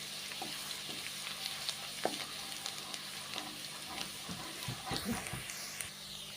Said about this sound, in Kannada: ಈಗ ಎಣ್ಣೆ ಕಾದಿದೆ. ಜಜ್ಜಿಟ್ಕೊಂಡ್ರೆ ಬೆಳ್ಳುಳ್ಳಿ ಹಾಕ್ತಾಯಿದ್ದೀನಿ. ಇದು ಸ್ವಲ್ಪ ಫ್ರೈ ಆಗಲಿ.